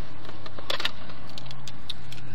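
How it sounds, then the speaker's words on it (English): Car keys jangle in a few quick metallic clinks over a low steady rumble, close and brief, around a $200 all-wheel-drive vehicle with 129,000 miles on it. "Here's the keys"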